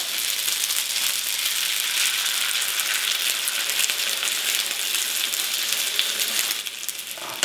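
Eggs and tomato coulis frying in a nonstick pan for a spaghetti frittata with chorizo, giving a steady, close hiss of sizzling that holds evenly throughout and eases slightly near the end, with no talking.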